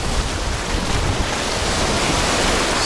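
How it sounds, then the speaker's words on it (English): Small ocean waves washing onto a quiet beach on the Gulf coast of Thailand between Sichon and Khanom, a constant close hiss and wash of surf with no speech. "Got the little waves."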